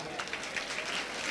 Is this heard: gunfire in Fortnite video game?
no